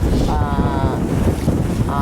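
Wind gusting across shallow water around a boat on a Mexican fishing trip, a steady broad rush with a faint tonal whine, loud and close throughout.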